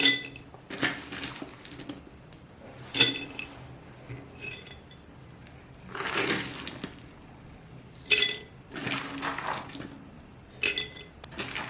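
Cashews frying in a pan clink and rattle in repeated bright bursts, as if tossed or stirred against the metal, with a soft sizzle between the clatters.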